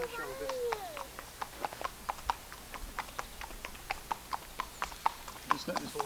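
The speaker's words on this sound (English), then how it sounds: "just let this horse go past." A horse walking past on the Isle of Wight, its hooves clip-clopping in a steady, even rhythm, fairly close and clear, with a brief whinny-like sound near the start.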